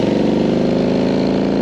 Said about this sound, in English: warming up this motorcycle.